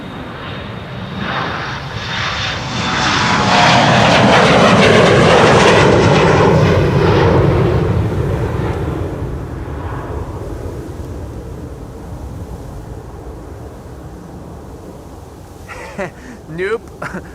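A passenger airplane takes off from Amsterdam Schiphol Airport, its engine roar swelling loud over several seconds then fading into the distance, with people talking nearby.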